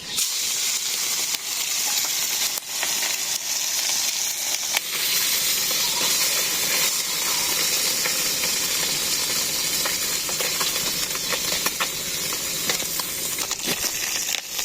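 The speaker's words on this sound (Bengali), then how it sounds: "আগে মাছ ভেজে নেই" Fish fry in oil in a village kitchen, making a loud steady hiss of sizzling that runs unbroken from start to finish with faint crackles scattered through it and no voices.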